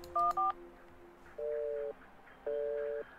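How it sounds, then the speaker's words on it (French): A telephone keypad in a video game sounds several short DTMF tones, first two quick beeps and then two longer paired tones spaced apart. The tones are clear and fairly loud, with no talk over them. "Calling random phone numbers isn't going to work."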